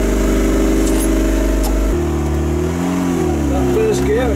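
A restored Raffo Belva engine running loud and close, a steady idle that shifts into a changing, rising rev pattern midway, with a voice talking over it.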